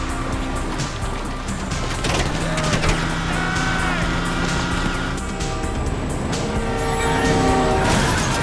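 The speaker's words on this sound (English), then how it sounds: "Beat the train, man!" A train rumbles past in a Grand Theft Auto game, a dense roar of engine and rail noise mixed with car sounds and steady game sound effects throughout.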